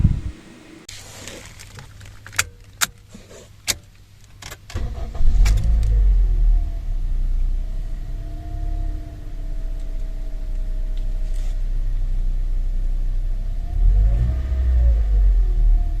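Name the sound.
car engine running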